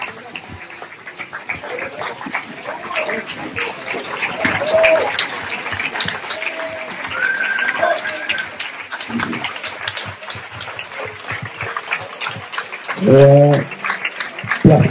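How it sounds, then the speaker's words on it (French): At a tribute gathering for Angelina Fromentoux in Caro-Missiriac, an audience claps warmly and steadily throughout, with scattered voices and a brief louder burst of sound near the end. "je pense que vous pouvez vous lever pour Angelina et l'applaudir chaudement"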